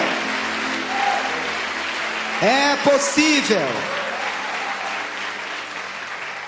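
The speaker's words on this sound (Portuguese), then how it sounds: "dê um aplauso a esse Deus nessa manhã" Church congregation applauding during a Sunday service, a dense wash of clapping throughout, with a voice speaking over it in the middle.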